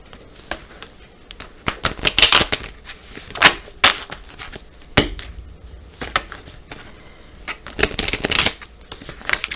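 Tarot cards riffled and cut by hand in several quick bursts of crisp shuffling, with short pauses between, close up and without talk.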